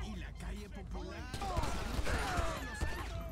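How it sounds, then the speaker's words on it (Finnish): Gunfire in Grand Theft Auto V: a burst of rapid shots and rattling reports crackles in the mid distance during a police chase, growing denser and louder after the first second, with no voices. "Oho, nää rupesikin ammuskelemaan."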